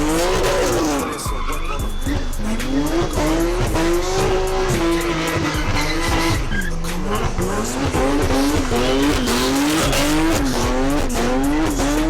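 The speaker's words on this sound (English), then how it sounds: "the owner of this car is very good at sending it sideways" A BMW F80 M3 drifts sideways, its engine revving hard and wavering beneath long, loud tire squeal that carries on almost without a break.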